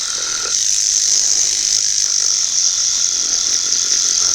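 Battery-powered sander working over 1/24 scale model AEC bus seats during varnishing, a steady close high-pitched whirring buzz that runs unbroken throughout.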